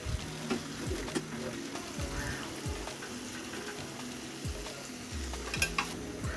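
A runny curry with sliced green chillies cooks in a pan on low to medium heat, a soft continuous sizzle and bubbling with a low rumble beneath it and occasional faint clinks.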